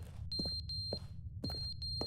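Electronic beeping from a button in The Stanley Parable: Ultra Deluxe: two clusters of high, steady tones a moment apart, each a few short beeps, over a low room rumble.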